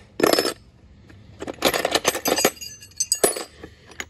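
Metal drill chuck keys clinking as they are handled: a sharp jingle, then a cluster of several small metallic clinks and taps, close and fairly loud against quiet.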